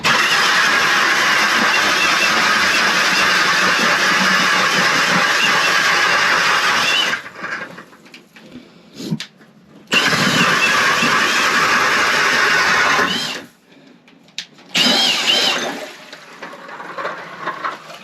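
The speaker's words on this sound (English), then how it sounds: "so today I'm using the K drill" A small gas engine on an ice auger revs hard and loud for several seconds, drops to idle, then roars again in bursts while the auger chews through lake ice for ice fishing.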